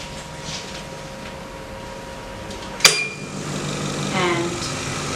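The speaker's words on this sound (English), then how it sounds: "press the vacuum button," A 3D vacuum sublimation transfer machine's vacuum runs with a steady mechanical hum and hiss, with a sharp click as the button is pressed and a slight rise in the whir afterward.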